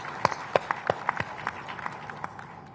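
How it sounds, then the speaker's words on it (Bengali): Brief scattered clapping from an audience at a book fair honouring its organisers, a short light burst of separate claps rather than a full ovation. "তাদের উদ্দেশ্যে আমরা একটা হাততালি দিই।"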